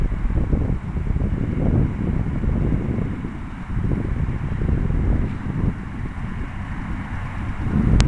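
Steady, loud wind buffets the microphone while a foamboard RC plane is flown outdoors on a windy day, a continuous rushing roar with gusty swells and no talking.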